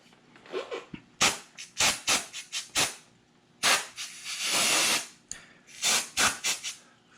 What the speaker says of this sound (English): we're going to just clean it off with a little brake cleaner